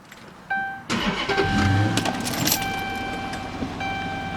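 A 2013 Dodge Charger police pursuit vehicle with a 5.7 HEMI V8 sounds a steady warning chime, then cranks and catches into a loud, full idle that holds close by with faint jingling keys.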